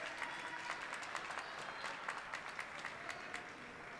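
Crowd in a high school girls' basketball gym applauds as a player comes onto the bench, a steady, even patter of many hands clapping at a distance for the full stretch.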